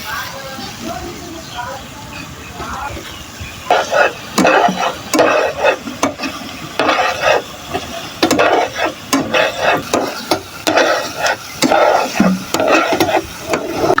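Ground cumin, five-spice and dried chili are stirred into a hog plum pickle cooking in a pan, giving a run of scraping, sizzling stir strokes that turn rhythmic and fairly loud after a quiet start.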